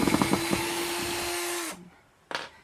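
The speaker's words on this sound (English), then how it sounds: "I haven't used a drill in a long time" A power drill whines steadily at close range after a few quick trigger pulses, then stops, followed by one more short burst.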